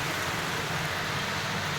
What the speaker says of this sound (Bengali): আর বৃষ্টি দেখো, এদিকে প্রচুর বৃষ্টি